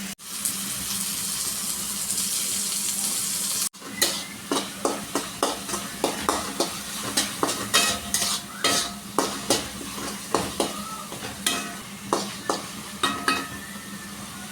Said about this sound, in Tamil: தக்காளியை வந்து நல்லா வந்து வதக்கிடலாம்